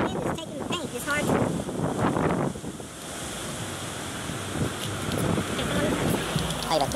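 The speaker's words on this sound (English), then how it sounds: "The wind is taking the paint." Wind rushes and buffets a microphone outdoors near the water beside a 1986 Sea Ray boat being primed, a steady roaring gust with people talking faintly underneath.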